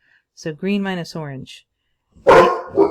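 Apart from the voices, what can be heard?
dog barking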